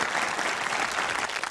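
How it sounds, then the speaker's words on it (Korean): Studio audience applause on the final episode of a 1996 Korean television program, a brief dense wash of clapping heard alone, moderately loud and even throughout. "큰 박수 부탁드립니다"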